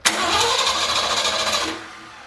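A Ford 351 V8 cranks loudly for under two seconds with a harsh, rapid churning whir, then falls quiet without settling into an idle.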